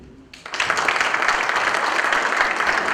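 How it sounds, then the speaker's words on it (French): After a brief quiet moment, a conference audience bursts into applause that swells quickly into a full, steady round of clapping, fairly close and sustained to the end. "Et l'applaudir très très fort, s'il vous plaît."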